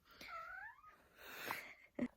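A cat gives a soft, drawn-out meow, followed by a couple of quieter short sounds; faint and close, with no talking.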